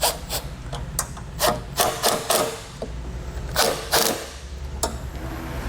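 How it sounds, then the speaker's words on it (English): A 10mm wrench snugs down a bolt holding a towed-vehicle wiring kit connector. Close, intermittent scraping and ratcheting strokes come in short bursts over a low hum, with no voices. "we can snug this down using a 10mm wrench and a Phillips screwdriver"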